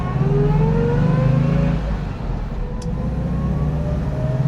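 A 1959 Volkswagen Deluxe sunroof bus engine hums loud and near from inside the cabin, its revs rising in one gear and then dropping after a gear change.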